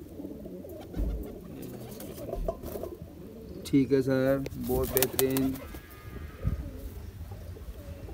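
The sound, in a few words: Teddy pigeons cooing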